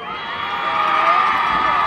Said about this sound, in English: the Tartans over there hooting and hollering for a personal foul